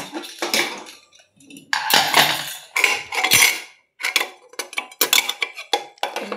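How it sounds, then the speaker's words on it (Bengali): Khichuri being served onto a metal plate, with a series of clinks and scrapes of a serving spoon against dishware, close and fairly loud, in irregular bursts with brief pauses. "এই দেখো এই যে খিচুড়ি বেড়ে নিচ্ছি আমার থালায়"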